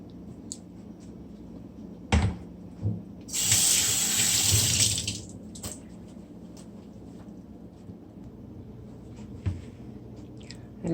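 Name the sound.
tap water running while rinsing cow liver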